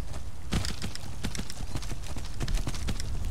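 Horse hooves clip-clop in the video game Skyrim, in a quick, steady rhythm, crisp and close, with a faint background hum.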